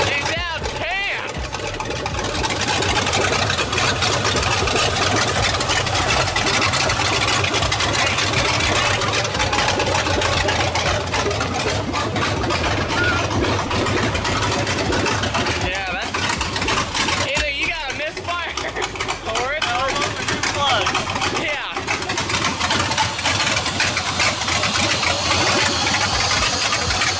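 An LS V8 in a New Edge Mustang idles continuously with a rough, knocking rumble, close and fairly loud, while people talk and exclaim over it.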